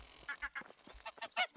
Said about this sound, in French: Oh, il y a des oies!